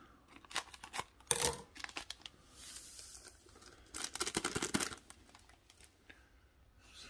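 Scissors cutting open small packets of coffee maker and espresso machine cleaner, several sharp snips and crinkly tearing bursts, close and fairly quiet with pauses between.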